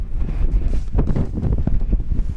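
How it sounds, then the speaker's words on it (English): Strong wind blowing outdoors in Nebraska, buffeting the microphone with a loud, continuous, gusty rumble, with no speech. "There's the wind."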